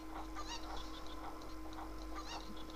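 Cucco chickens in Kakariko Village in Zelda: Ocarina of Time cluck and squawk in short bursts over a steady game background hum and music, several birds overlapping.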